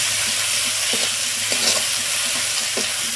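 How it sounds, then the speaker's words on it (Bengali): Cabbage curry masala with chopped tomato and slit green chillies sautéing in a pan, a steady close sizzle with a few soft stirring scrapes throughout. "এখন এই মশলাটা কিছুক্ষণ এইভাবে কষিয়ে নেব।"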